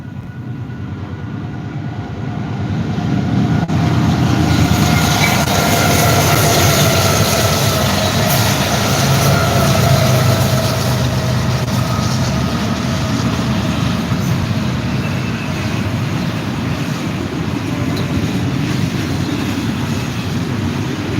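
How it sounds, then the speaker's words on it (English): A train rolls past with a continuous loud rumble of wheels on rails and faint metallic squeals, steady throughout. "We got a train already."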